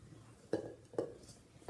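Chopped walnuts being mixed by hand into pumpkin cinnamon cookie batter, with a few soft clinks of a utensil against a bowl spaced about half a second apart, quiet and close.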